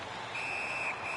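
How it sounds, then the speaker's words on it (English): A referee's whistle in the NHL 18 hockey video game, during a Boston Bruins franchise mode match, gives a sustained shrill tone followed by a brief second blast, heard over steady arena crowd noise. "Puck covered, whistle blown."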